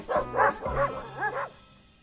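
A pack of dogs barks in a comedy film scene: several short, yelping barks in quick succession, fairly close and loud, fading out after the last bark.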